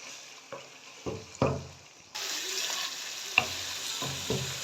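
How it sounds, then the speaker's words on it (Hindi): Chickpeas roasting in oil with turmeric in a pan, stirred with a few distinct scraping strokes, then a steady loud sizzle that swells partway through and continues under further stirring, close up with no talking. "अब इसकी मैं अच्छे से भुनाई करूँगी।"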